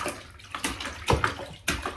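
A pet dog splashes and plays in bathwater in a bathtub during a bath, with irregular close sloshes and a few sharper splashes.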